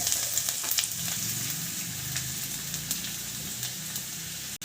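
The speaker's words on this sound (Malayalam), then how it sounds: "ഉള്ളി ഇഞ്ചി പച്ചമുളക് മൂക്കട്ടെ കേട്ടോ" Onion, ginger and green chilli fry in a pan for a homemade snack, a steady, even sizzling hiss held throughout at moderate loudness, close by, ending in a brief knock, with no speech.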